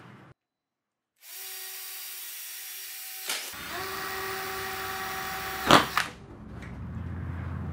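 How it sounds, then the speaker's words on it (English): A power drill spins up for a few seconds while drilling holes for a Yamaha windshield installation, pauses briefly, then runs again with a clattering burst as it bites through near the end, followed by a low rumble. "Now that we've drilled our holes"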